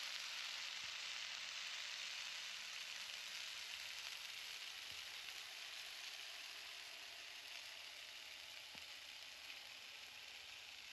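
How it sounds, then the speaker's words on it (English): Sweet potato pan frying in a home kitchen gives a steady, soft, continuous sizzle with an even hiss throughout, fairly quiet, with no talking. "I'm literally just pan frying my sweet potato"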